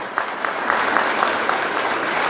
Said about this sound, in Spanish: Un aplauso para don Hipólito.